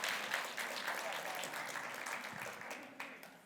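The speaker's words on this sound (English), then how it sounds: "can you guys give a round of applause for the guys that made the chili?" Applause from a gathered audience at a company financial presentation, honoring the people who cooked the chili; steady, moderately loud clapping with scattered voices mixed in throughout.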